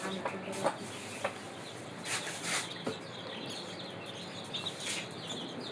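Chicks and ducklings in a small hobby hatchery give a string of soft peeping chirps and clucks at close range, scattered bursts over a low room background.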